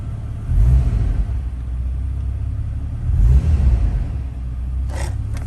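An old vehicle engine unused for about ten years runs with a low, rough rumble, swelling twice in short revs a few seconds apart, close and loud, with a brief clatter near the end.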